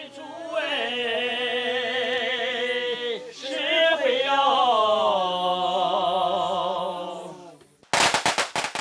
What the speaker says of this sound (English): Firecrackers announce that another custom has begun